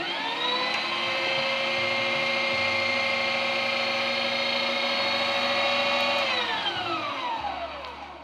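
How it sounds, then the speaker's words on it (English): Electric grinder steadily whirring as it extrudes buttery Christmas cookie dough, a loud, continuous motor hum with a constant tonal whine that dips in pitch and winds down near the end, no speech. "being there's so much butter in here, the grinder does a great job"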